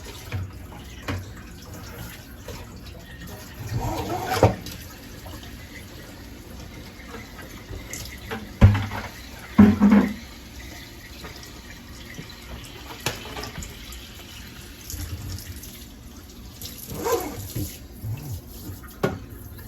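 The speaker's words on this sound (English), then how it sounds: "I like to rinse out the bucket because we don't want any bacteria growing in the bucket in the meantime." Tap water runs and splashes while a bucket is rinsed out during fish tank cleaning, a soft continuous flow with a few louder sloshes and knocks.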